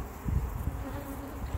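Honeybees, worker bees on brood comb, hum in a low, close buzzing drone that continues steadily through the short moment.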